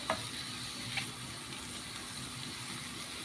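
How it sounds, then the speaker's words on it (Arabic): Onions and colored bell peppers sautéing in ghee and oil make a soft, steady sizzle with faint stirring clicks, quiet and continuous with no talk. "هبتدي كده ان انا اقلب لحد البصل والفلفل ما يدبل معايا"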